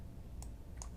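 Two soft, quick mouse clicks in an app, faint and isolated against a quiet room hum, a short pause between them.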